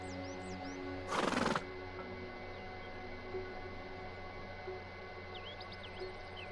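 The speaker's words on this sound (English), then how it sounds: "Okay, so I can ride this horse then." A horse in a video game lets out a brief, loud neigh over a constant humming ambient background, with faint chirping birds at the start and end and no speech.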